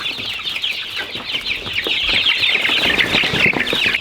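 Broiler chickens, including a big red meat bird, cluck continuously at close range in a farm pen. The clucking is steady and fairly loud and carries no talk.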